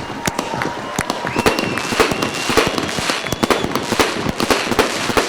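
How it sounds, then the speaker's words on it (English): Fireworks at a speedway championship celebration in Glasgow, a loud, dense run of cracks and pops with crackling bursts and faint whistles, continuing for several seconds. "So as the fireworks light the sky here at Glasgow"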